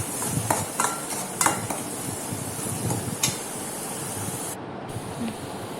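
Chopped onion and a cut green chili sauté in a pan for paneer masala, a steady close sizzle with a few sharp scraping stirs over the 6 seconds.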